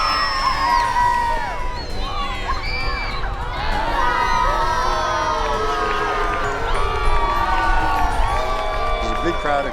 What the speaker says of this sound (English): the kids cheering for one group and the other kids cheering